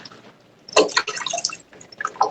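Tap water running and splashing while dishes are washed, with irregular bursts of splatter and drips that start after a quiet moment and fade in and out.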